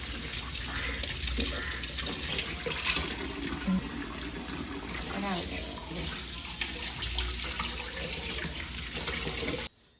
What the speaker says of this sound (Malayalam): പിന്നെ ചിക്കനും ഒന്ന് കഴുകിയിട്ട് എടുക്കുന്നുണ്ട്